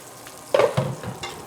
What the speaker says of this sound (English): It's starting to slow down the sizzle now, which is good.